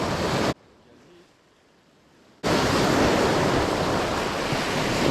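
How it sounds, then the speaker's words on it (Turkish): Sea waves breaking on a rainy shore during shore jigging, a loud broad wash of surf that briefly drops away before surging back, with wind noise on the microphone. "Ne dalgası bunlar şimdi?"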